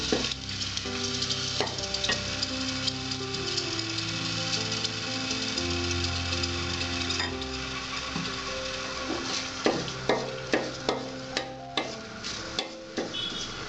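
A bay leaf goes into hot oil while dalia khichuri cooks, producing a constant close sizzle under a steady humming tone, with a run of crisp clicks and pops near the end.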